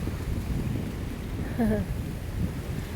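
Wind blows along a riverbank on a walk, a steady rumbling roar buffeting the microphone throughout, with a brief thin chirp rising above it midway.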